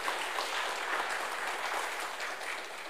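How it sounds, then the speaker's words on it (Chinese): A church congregation claps steadily for a few seconds in a hall, a dense even patter of applause with no voices over it. "我们给他拍拍手"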